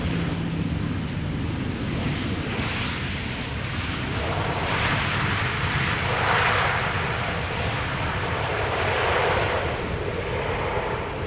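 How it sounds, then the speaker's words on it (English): An Embraer jet passes overhead at Schiphol Airport, a steady broad engine roar that holds fairly loud throughout and swells slightly toward the middle and end, with no talk. "overhead I'm hearing, what is it? It's an Embraer by the looks of it."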